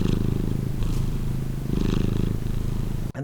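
A steady, low rumbling cat purr recorded with a Zoom H1n on a stand, close and continuous with a pulsing rhythm, ending with a brief soft knock.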